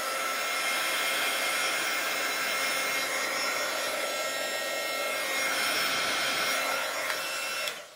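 Heat tool blowing on a card painted with watercolor crayons: a steady, loud whooshing fan roar held for several seconds, then cutting off abruptly at the end.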